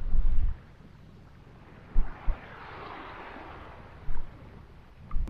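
Wind blows hard across a boat at sea, a broad steady rushing with heavy buffeting gusts thumping the microphone at intervals, near and fairly loud, with no voices.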